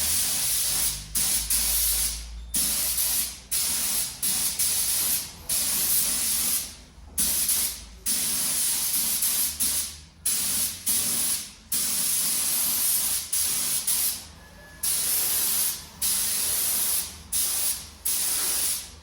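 Classic Ford wheels get a first coat of spray paint in repeated hissing bursts, each a second or two long, separated by brief gaps, loud and close with no voices.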